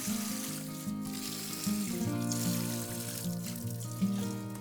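Warm water pouring from a watering can into planting holes in a dacha garden bed, a steady, close splashing and trickling that runs continuously throughout with small surges.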